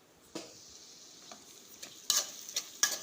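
Red chilli powder, garam masala and coriander powder fry in a pan for dal khichdi, a soft close sizzle broken by several sharp scraping strokes of a spoon stirring.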